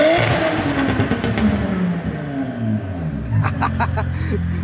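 A new car's engine revs loudly and roughly, rising and falling in sustained bursts close by, with a clattering rumble throughout and a few voices talking over it.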